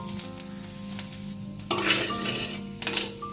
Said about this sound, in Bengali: ফোড়নে দিচ্ছি তেজপাতা শুকনো লঙ্কা গোটা জিরে